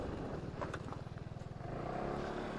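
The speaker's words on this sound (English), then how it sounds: "now let's hit the road and let me show you what this bike can do" A Kymco Racing S 150 scooter pulls away on the road, its engine throbbing in a low rapid pulse that rises and smooths out as it accelerates.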